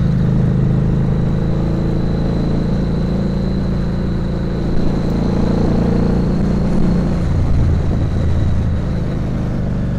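A Harley-Davidson motorcycle engine runs steadily for the whole stretch, a loud, continuous low rumble with a faint whine riding above it and a few slight swells in level.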